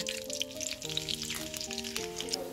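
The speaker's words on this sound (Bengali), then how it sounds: "পেঁয়াজ রসুনটা খুব ভালোভাবে ভেজে নিব।" Chopped onion and garlic fry in hot oil with garam masala in a wok, giving a steady, fairly quiet sizzle for the whole stretch, with a melodic music bed playing underneath.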